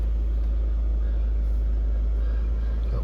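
Ford Focus 2.0 TDCi Zetec S diesel with a manual gearbox idles after starting, giving a steady low rumble close by with no break over a few seconds.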